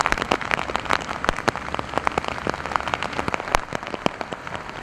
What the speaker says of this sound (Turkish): şiddetli yağışlar etkili olmaya devam ediyor